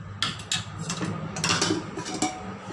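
Metal clinks and scrapes come from cooked shengole being lifted out of a cooled, opened pressure cooker, a few light taps scattered over a steady low kitchen background, with no talking.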